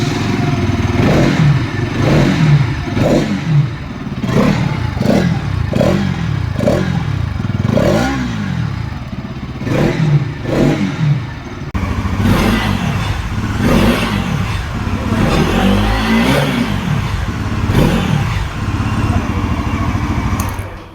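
Bajaj Pulsar NS400Z and NS200 motorcycles revving their exhausts, loud and close, in repeated sharp throttle blips that rise and fall, followed by a longer, rougher stretch of engine roar with no talking.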